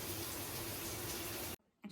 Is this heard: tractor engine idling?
no